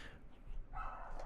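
A dog barking indoors in a house, faint and distant in the background, a short yap over a low room hum.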